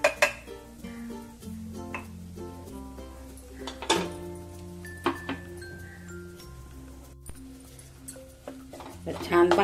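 Ground peanuts and chili are stirred in hot oil in a pan, giving repeated clinks and scrapes of a spoon against metal, close and fairly soft, with a voice talking throughout.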